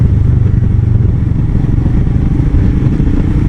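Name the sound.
Royal Enfield Himalayan 2019 motorcycle being ridden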